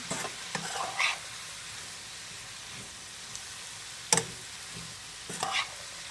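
Guyanese-style prawn fried rice sizzles steadily in a pan, with a few sharp utensil scrapes as it is stirred.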